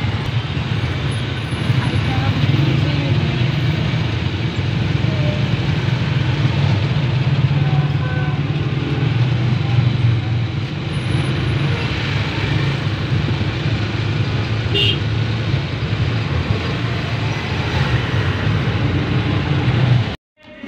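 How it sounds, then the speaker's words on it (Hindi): Heavy traffic crawls across a bridge in a jam, a steady dense rumble of car, truck and bus engines close by, with faint beeps now and then, continuing unbroken for twenty seconds. "इतना ट्रैफिक जाम चल रहा है"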